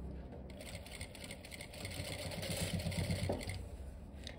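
A sewing machine stitches the hem of a formal pant, running in a faint, steady mechanical whir that grows a little busier midway through, with quiet room noise around it.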